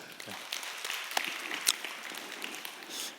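Applause fills a church youth worship service, with steady clapping from the congregation continuing throughout at moderate volume.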